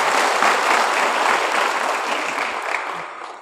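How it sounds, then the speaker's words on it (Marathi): An audience at a religious discourse applauds to welcome a speaker, with dense, sustained clapping that is loud and close throughout and fades slightly toward the end, with no talk over it. "टाळ्या वाजवून तुम्ही मनपूर्वक स्वागत."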